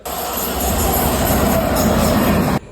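A train rumbles loudly past the platform at a Kolkata railway station, a dense steady roar of wheels and carriages close by that cuts off abruptly near the end.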